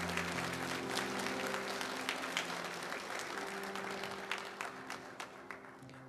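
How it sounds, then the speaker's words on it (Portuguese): A church congregation applauding during a Portuguese-language worship service, steady dense clapping throughout, with sustained musical tones underneath and no speech. "Vamos aplaudir o Senhor por isso."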